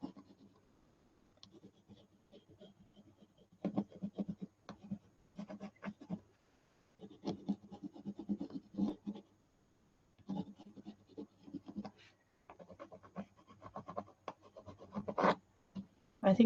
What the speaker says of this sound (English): I'm just sketching out my poppy shapes with my crayon